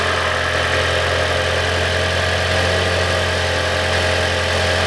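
A 2011 Lexus CT200h hybrid's petrol engine runs at a steady idle after starting on its own, a continuous close low hum with an even mechanical drone and no talking.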